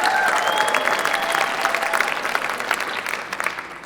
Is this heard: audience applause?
yes